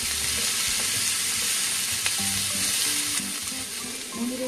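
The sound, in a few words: stir-frying food in a pan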